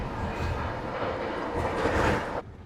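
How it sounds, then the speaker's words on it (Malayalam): A train rushing past at speed somewhere on the road between Gwalior, Guna and Mumbai, a steady broadband roar holding loud for over two seconds before cutting off abruptly near the end. "എന്നാ സ്പീഡിലാണ് ട്രെയിൻ പോകുന്നതെന്ന് നോക്കിയേ"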